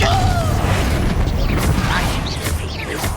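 Confringo blasting spell in Hogwarts Legacy: a close, heavy explosive burst with rumbling low-end debris that fades over about three seconds.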